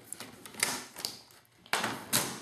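A paper trimmer slices through card stock in a few short scraping, clacking strokes, close and crisp, with quiet handling noises between the cuts.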